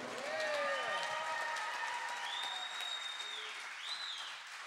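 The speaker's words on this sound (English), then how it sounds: "nice round of applause for Keith Jones" An audience at a celebration-of-life concert claps in a sustained round of applause that stays loud and dense, then slowly thins, with whistles and cheers rising above the clapping.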